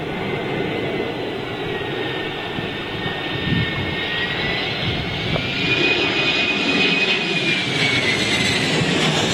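A fixed-wing airliner arrives on runway 27L at London Heathrow during Storm Ellen, its engines a loud, sustained roar with a faint whining tone drifting across the passage, heard alone without talk.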